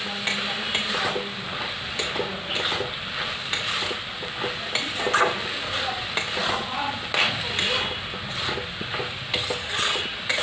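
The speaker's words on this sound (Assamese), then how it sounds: "মছলা আৰু বিলাহীখিনি ধুনীয়াকৈ মই মিলাই ল'ম" A spatula stirs spices and tomatoes in a hot frying pan, a steady sizzle broken by repeated scraping strokes and light clinks against the pan.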